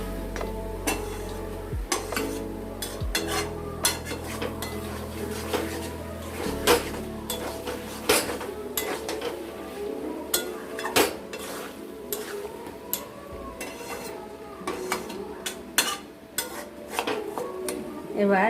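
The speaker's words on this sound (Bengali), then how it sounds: "ঢাকনাটা খুলে আমরা মাংসটাকে ভালো মতো করে নেড়ে নেব" Desi country chicken being stirred in a pot for kosha mangsho: a spoon scrapes and clinks against the metal in irregular bursts, close and fairly loud, over a low steady background hum.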